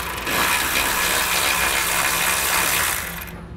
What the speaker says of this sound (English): We're going to pull the bolt out.